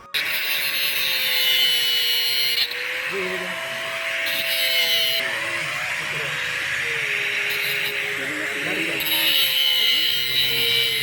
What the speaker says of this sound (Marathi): ते काढण्यासाठी आम्हाला कटर मशीनचा वापर करावा लागला